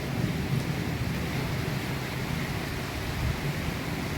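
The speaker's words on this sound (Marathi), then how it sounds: "पाऊस पडत आहे आणि विजाचे कडकडाट वाऱ्या वादळसोबत" Constant dense roar of a thunderstorm's heavy rain and wind in Solapur, rumbling low and steady throughout with no pauses.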